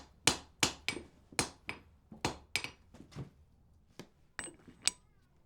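Sharp, ringing hammer strikes fall irregularly on hot wrought iron being hand forged into a door bolt on an anvil, about a dozen close blows with short pauses between them and bright metallic decays.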